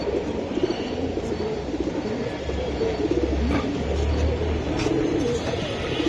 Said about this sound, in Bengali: এই যে কবুতরগুলো আমি দেখাই